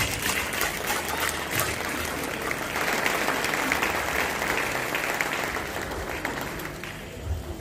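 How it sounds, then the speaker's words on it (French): Sustained applause from an audience at a church-style couples' celebration honoring long marriages, dense steady clapping filling the whole stretch, with a few voices mixed in. "Applaudissez."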